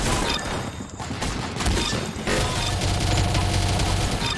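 Rapid, continuous nail gun fire in the Roblox shooter Arsenal, a dense stream of loud, sharp shots running nearly unbroken with a brief lull near the middle.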